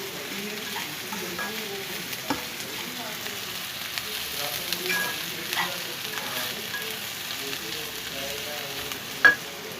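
Cumin seeds, crushed chili and turmeric fry in hot oil in a pan, a steady soft sizzle with light scraping as a spoon stirs the spices, heard alone throughout.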